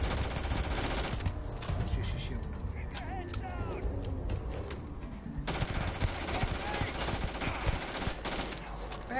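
Gunfire in the Starfield video game, loud sustained bursts of rapid shots with a quieter gap in the middle, mixed with game sounds and voices.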